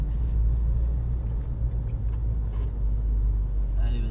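A Porsche GT3 Cup race car pulls away from a standstill at a driving course, giving a loud, steady low engine rumble that stays close throughout, with faint voices in the background.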